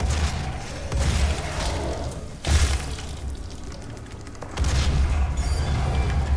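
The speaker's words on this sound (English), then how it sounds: "I guess the explosion radius on the barrels is only enormous for me." Explosions from detonating barrels in the Doom 2016 video game, heavy booming blasts with crackling debris, one burst near the start, a sharp loud hit around the middle and another heavy blast near the end over rumbling game noise.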